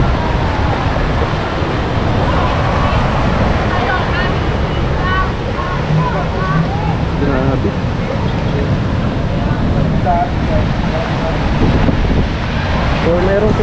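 Typhoon floodwater rushes high and strong through a river in Sta. Rosa, Laguna, a loud continuous roar with wind buffeting the microphone and a voice talking over it.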